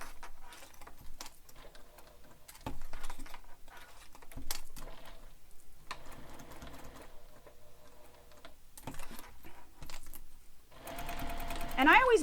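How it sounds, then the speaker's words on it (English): A sewing machine stitches a bag seam softly in the background while someone talks over it throughout, with the machine growing slightly louder near the end. "we're going to sew this with the seam allowance given in the pattern all the way around"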